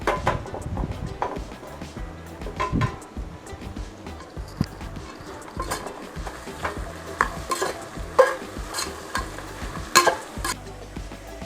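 Carrots and beans stir-fried in a pan for coconut rice, with a steady sizzle under repeated scraping strokes and irregular utensil knocks, close and moderately loud throughout.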